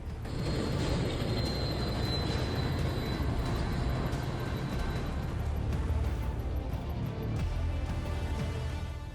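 A train approaches a railway crossing with a lowered barrier and red light, its steady rumble and rolling wheel noise filling the scene at moderate loudness, with faint squealing and clatter throughout and no voices.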